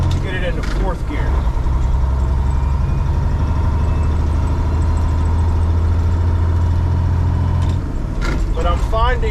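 A 2001 Western Star 4964EX truck's engine drones steadily and loud through a gear shift, with a person talking over the running engine throughout.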